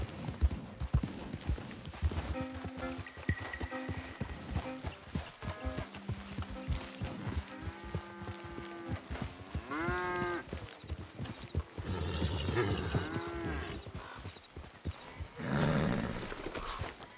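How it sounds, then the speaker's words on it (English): Horse hooves clip-clop steadily in Red Dead Redemption 2 while a horse whinnies a few times and cattle low nearby, a busy ranch scene at moderate volume with brief bursts of animal calls. "Get that damn horse under control."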